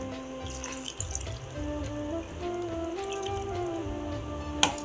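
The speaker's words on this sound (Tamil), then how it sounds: "இப்போ தேவையான அளவு தண்ணி இந்த மிக்ஸி ஜாரை அலசி தண்ணி ஊற்றிக்கலாம்" Water runs and splashes steadily into a mixer jar close by, rinsing it, with a faint background hum and a brief clink near the end.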